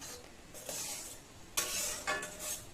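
Ridge gourd with coconut and green chilli paste, turmeric and salt being stirred in a pan, with faint sizzling under a few scraping, clinking strokes of a spoon against the pan.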